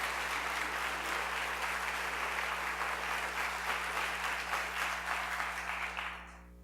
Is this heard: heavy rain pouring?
no